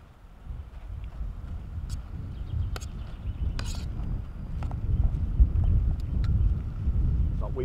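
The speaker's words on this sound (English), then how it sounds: "Wind's getting up a bit, so I'm gonna put this up." Wind blowing outdoors at a camp cooking spot with a budget alcohol stove, a steady low rumble and buffeting against the microphone throughout, gusting a little stronger in the second half, with faint scattered clicks and knocks.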